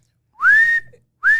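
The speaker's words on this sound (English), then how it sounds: "Can we get a whistle again?" A person whistles two sharp rising notes, the first held longer, close and loud with a short gap between them.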